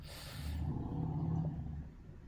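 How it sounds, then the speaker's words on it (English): A motorbike passes loudly right outside a window, a low rumbling engine that swells through the middle and then fades away, heard from indoors with no voices. "that's a loud car outside your window. There's a motorbike directly outside."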